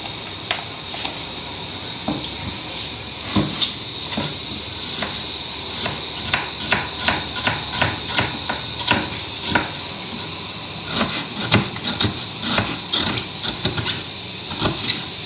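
Repeated sharp knife taps on a cutting board while chopping peeled onions, clustered in quick runs and pauses, over a steady background hiss from a stovetop.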